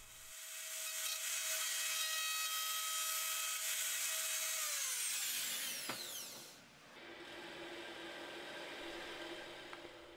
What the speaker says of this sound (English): at the end I make sure to do some small climb cuts